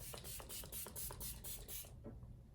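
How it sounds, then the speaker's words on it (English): A series of quick, hissy bursts of makeup setting spray, about eight in a row in a regular rhythm, close by and fairly quiet, then stopping. "This is the Stay Spray."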